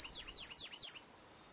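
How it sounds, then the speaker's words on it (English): A black-and-white warbler sings a high, thin, rhythmic song of about five repeated squeaky phrases, fairly close, then stops. "a lovely black and white warbler that whistled a tune"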